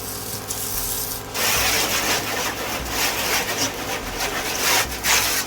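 A Fooco LB05 Pro cordless pressure sprayer on its jet nozzle setting: a forceful, steady hissing jet starts abruptly after a brief quieter moment and continues loudly and close, with slight pulsing.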